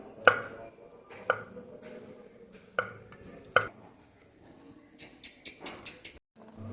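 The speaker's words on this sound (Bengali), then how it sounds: "এখন কলাটা আমি একটা একটা করে ছুলে কেটে নেব। এভাবে পাতলা পাতলা করে গোল গোল করে কেটে নেব।" Knife cutting peeled bananas into thin round slices on a board for a healthy iftar dish, four crisp separate chops spaced about a second apart, close and clear, with soft handling noise between them.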